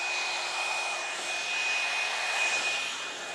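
A hair dryer blows hair dry over velcro rollers with a steady, loud whooshing hum and a thin constant whine, unbroken from start to finish.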